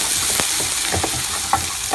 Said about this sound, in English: We are going to add little bit of pinch of ginger garlic. Let it fry nicely.